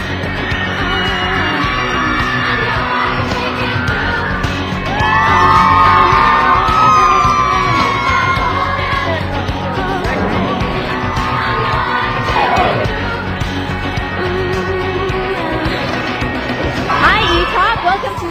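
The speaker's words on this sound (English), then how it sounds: "Hundreds of screaming fans have turned up." Hundreds of fans scream and cheer at a celebrity autograph signing in a Calgary shopping mall, a loud, continuous crowd roar of shrieks and yells that swells midway and again near the end, with no clear talk over it.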